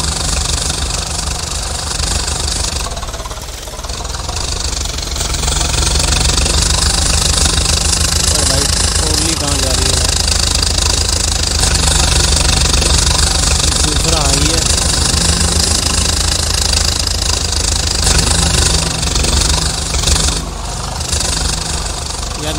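A Swaraj 855 tractor towing a trolley strains uphill in Farming Simulator 22, its engine droning loud and steady with a knocking, laboring tone throughout, a brief dip early on, and voices talking over it.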